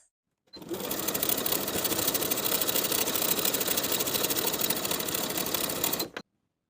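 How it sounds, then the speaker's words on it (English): A sewing machine runs a single steady burst of top stitching along a linen shorts seam, close and fairly loud, starting abruptly and stopping after about five and a half seconds with silence on either side. "Top stitching along the center front short side and catching that seam allowance as you go"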